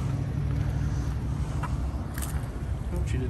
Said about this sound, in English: Car still on.